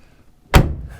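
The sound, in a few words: GM car door shutting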